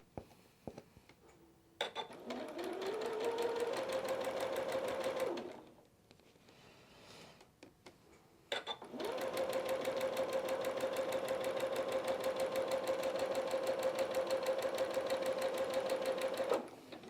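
A sewing machine stitches quilt block pieces in two runs, a rapid steady whirring chatter for several seconds, a pause, then a longer even burst, close and clear.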